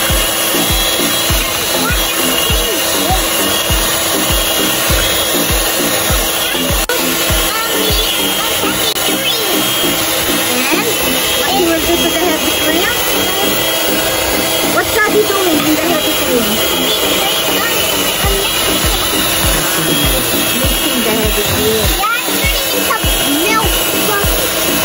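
An electric mixer whips cream for homemade ice cream with a continuous buzzing whir throughout, while people talk over it.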